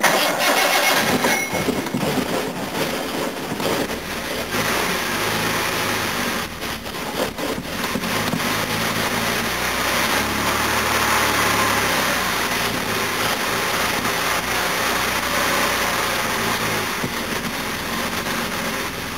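A 1969 Jaguar XJ6 straight-six on rescue carburettors with no choke cranks, catches and settles into a steady, rough idle, loud and close for the whole stretch.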